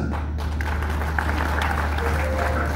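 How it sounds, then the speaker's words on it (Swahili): A crowd at a memorial service applauds steadily, a dense and continuous wash of many hands clapping that holds at a loud, even level throughout. "tupigie makofi Mheshimiwa Wamombi"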